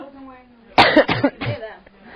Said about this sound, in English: How bad does it sound if I cough?